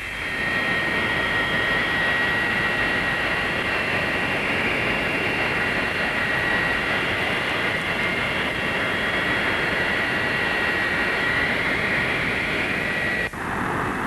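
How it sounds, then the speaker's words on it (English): Boeing 727 jet airliner on its takeoff run during pilot training practice, engines roaring loud and steady with a high whining tone throughout, close and continuous, with no talk over it. "Takeoff practice on the Boeing 727."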